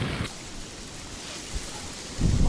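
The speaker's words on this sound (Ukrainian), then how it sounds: "в холодній такій погоді, ще й пішов дощ" Rain falling steadily outdoors on a cold, windy riverbank during shore fishing, a dense even hiss that swells louder near the end, with no voices.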